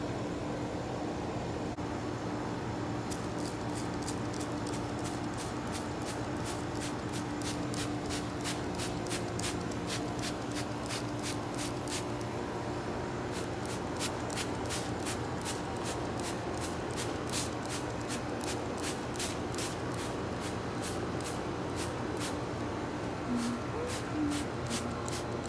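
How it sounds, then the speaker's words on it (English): A small spray bottle misting a pepper plant, giving rapid, evenly spaced short hissing sprays in two long runs over a steady low background hum. "It says to spray the plant and then do it again 10 days later."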